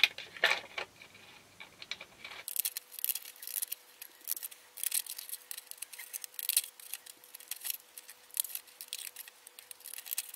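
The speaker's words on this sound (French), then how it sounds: "Et je vais faire une petite découpe avec les ciseaux cranteurs tout autour." Pinking shears snip around the edge of a photo in a series of close, crisp clicking cuts, repeated quickly and unevenly against a quiet background.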